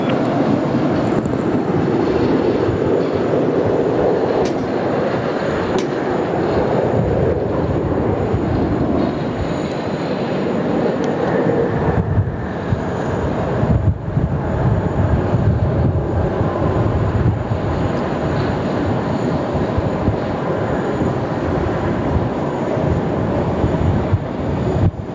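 An airliner landing at Sydney Airport makes a broad, sustained roar of engine and rolling noise across the runway, steady and fairly loud, shifting gradually as the aircraft slows, with no talk.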